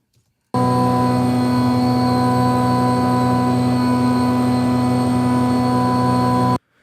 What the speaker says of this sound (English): this is literally just a carpet cleaner van that was parked outside my apartment one night